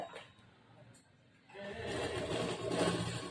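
Sewing machine stitching blouse fabric, quiet at first and then a steady, continuous mechanical whir that builds in the second half.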